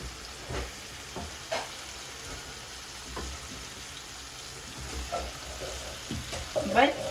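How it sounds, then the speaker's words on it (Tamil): Pieces of Sankera fish slide into hot oil in a pan for a curry, setting off a steady close sizzle and frying crackle punctuated by a few sharper bursts as each piece lands, with no talk. "நான் ஒவ்வொரு மீனாக அப்படியே சேர்க்கிறேன் இதுக்குள்ளே"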